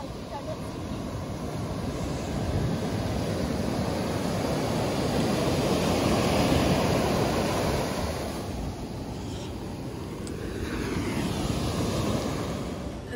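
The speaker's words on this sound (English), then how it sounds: "See the waves." Ocean surf breaking on the coast at Swakopmund, Namibia, a steady, loud wash of waves and wind that swells and eases over several seconds, heard close by.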